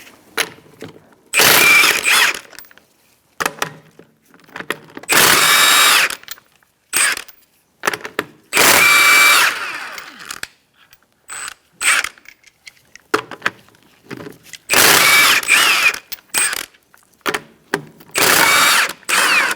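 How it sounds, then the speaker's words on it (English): A power tool with a 21mm socket spins off the front wheel lug nuts on a 2004-2009 Mazda 3, loud bursts of whirring and creaking separated by quiet gaps, close and without talk. "Using a 21mm socket, we're going to remove our lug nuts to take the front passenger side wheel off."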